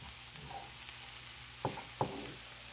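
Chopped garlic and chili frying in a pan make a quiet, continuous sizzle, with two sharp utensil scrapes and taps as they are stirred.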